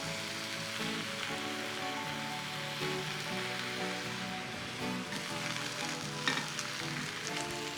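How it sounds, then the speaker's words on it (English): Mushrooms browning with spinach in a frying pan give a steady, dense sizzle and crackle that runs unbroken and fairly loud, with a brief stirring clatter near the end. "My mushrooms are beginning to sizzle and go brown"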